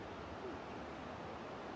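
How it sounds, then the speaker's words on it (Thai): A small waterfall spills into a little stream, making a steady, even rushing wash that stays faint and unbroken throughout, with no voices. "โอ้ น้ำตกบ้านเฮา ประมาณนี้เลยพี่น้องเอ้ยน้ำตกบ้านเฮา มันเป็นน้ำลำธารนิดหน่อยนะพี่น้อง"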